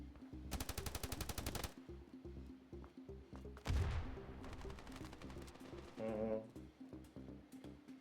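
Automatic gunfire in the mobile shooter game Standoff 2, a long rapid burst followed by scattered single shots and shorter bursts, loud and close against ambient game sound.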